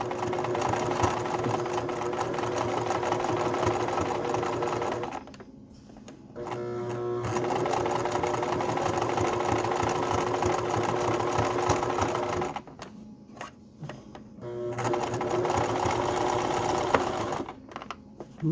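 A sewing machine runs a zigzag stitch for machine embroidery around a curl, its steady loud whirring broken by two brief pauses before stitching resumes.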